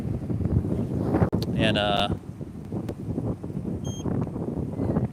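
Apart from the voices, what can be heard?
strong wind blowing into the microphone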